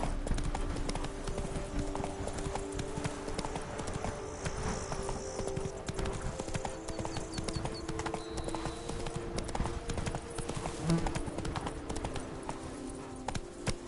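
A horse gallops in the video game Witcher 3, a rapid, continuous clip-clop of hooves at close range over ambient game sound, with a faint snort partway through.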